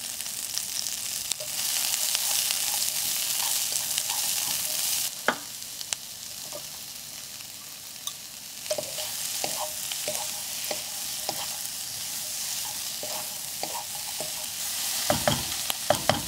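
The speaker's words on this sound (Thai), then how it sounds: "ในส่วนของการผัดกระเทียมหัวหอมแล้วก็พริกหวานค่ะ" Garlic, onion and bell pepper stir-frying in a pan: a bright sizzle that swells and eases, broken by sharp scrapes and clacks of a spatula, busier toward the end, with no one speaking.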